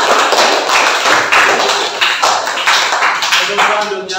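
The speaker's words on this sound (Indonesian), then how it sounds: "Tepuk tangan untuk kita semua." A classroom group claps together after discussions and presentations, a dense burst of many hands applauding close by, steady throughout with slight swells.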